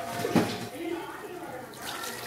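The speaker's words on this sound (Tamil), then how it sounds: "தண்ணி ஊற்றிடுறேன், குழம்புக்கேற்ற" Water is poured into a pot of black karamani kara kuzhambu, a tamarind and tomato curry, making a brief, soft splash and trickle at close range that fades under quiet background noise.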